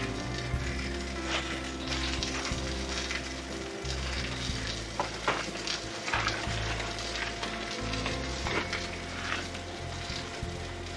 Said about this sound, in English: Okay, let's get the flatter side here down into the pan. Now there again, I'm going to cook these up